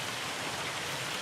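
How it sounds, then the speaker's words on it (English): Steady rain falling on a farm porch in Ohio, a dense, even hiss that fills the moment without a break, fairly close and unbroken by speech. "Oh, it's raining."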